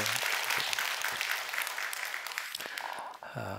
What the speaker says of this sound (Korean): 우리 박수 한번 다시 한번 해줘요